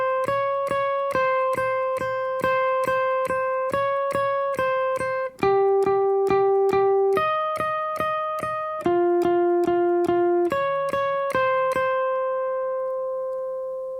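Clean electric guitar plays a bridge line with no effects, a steady run of plucked single notes with clear attacks and short decays, holding a final ringing note, close and alone.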